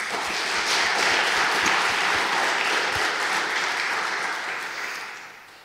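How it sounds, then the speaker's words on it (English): Sustained applause from a large audience at a competition finals ceremony, steady and full for several seconds before tapering off at the end. "So big round of applause to everyone who spent their free time being here."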